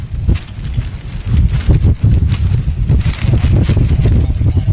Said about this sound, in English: That's some serious gusting going on there.